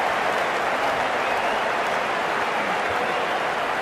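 Cricket 19 stadium crowd applause, a dense, loud, continuous wash of clapping and cheering in a video game cricket match.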